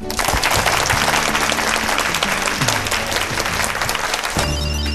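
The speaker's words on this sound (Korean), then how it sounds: "큰 박수로 모시겠습니다" A studio audience at a televised lecture gives a loud, sustained burst of applause to welcome a communications professor, dense clapping that cuts off abruptly near the end as music comes in.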